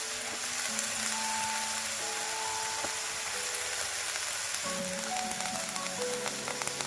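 Eggplant pieces fry in a hot pan with turmeric and salt, giving a steady, close sizzle throughout with a few faint clinks and hums over it.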